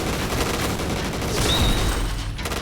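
Rapid bursts of gunfire from the MX4 G gun in the shooting game Free Fire, loud and dense, running through the whole stretch with no pause and no voices.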